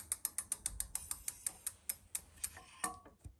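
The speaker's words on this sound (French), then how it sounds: "je vais la tourner d'un cran dans le sens anti-horaire et à nouveau faire tourner la roue" A bicycle wheel spins during adjustment of an Avid BB5 mechanical disc brake, producing a rapid, evenly spaced ticking of the freewheel ratchet that gradually slows, close and clear with no talking.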